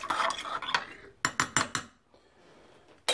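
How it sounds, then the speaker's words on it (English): A spoon stirs coffee laced with Sambuca in a cup, first as quick soft scraping, then a run of four sharp clinks against the rim, followed by near quiet and one last tap. "Give it a stir."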